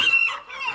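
A single short cluck from a chicken on a small Tennessee homestead, close and fairly loud, heard alone.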